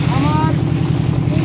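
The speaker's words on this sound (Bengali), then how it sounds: "প্রচন্ড বাতাস এখন" Strong wind sweeps across an open haor wetland, a loud continuous low roar buffeting the microphone with a brief tonal whistle early on, steady and close throughout.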